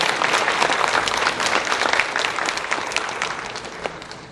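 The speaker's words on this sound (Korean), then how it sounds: "우리 정종태 선교사님 나오실 때 힘찬 박수로 환영해 주시면 감사하겠습니다" A church congregation applauds to welcome a missionary serving in Guinea-Bissau, a dense, steady wash of many hands clapping together throughout, loud and sustained with no talking over it.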